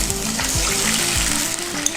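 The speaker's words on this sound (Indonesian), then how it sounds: "Selanjutnya kita tumis dulu bawang putih. Oke, langsung masukkan air." Water poured into a hot pan of sautéed garlic sets off a loud, steady sizzle with bubbling and a faint scraping stir, close up and continuous.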